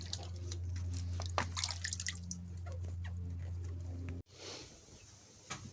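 Water runs and drips steadily while homegrown tomatoes are washed in a home kitchen before being pressed into homemade tomato juice, with a constant low hum underneath and a brief cut near the end.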